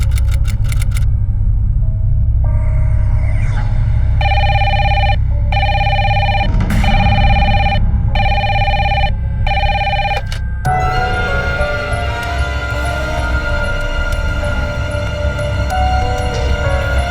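A telephone rings nearby in loud, evenly spaced bursts of electronic trilling, about five rings over a few seconds, followed by a lingering background hum.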